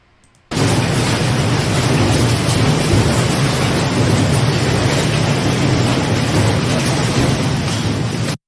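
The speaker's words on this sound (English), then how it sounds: "Thunder and dark sky at 2 p.m." An afternoon thunderstorm breaks in abruptly with a loud, dense wash of heavy rain and rumbling thunder, sustained at full force without pause and no voices.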